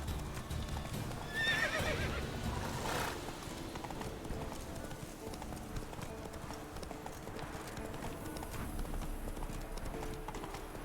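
Horse hooves clip-clop steadily while a horse neighs loudly near the start, in The Witcher 3 video game with ambient game sounds running throughout.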